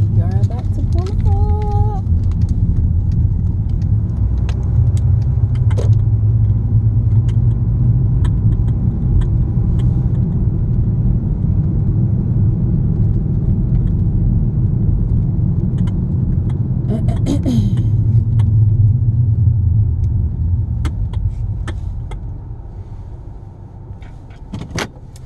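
A car carries its occupants along with a steady low engine and road rumble that fades down as the vehicle slows and pulls up; a voice speaks intermittently over the drone, with brief clicks and jingles inside.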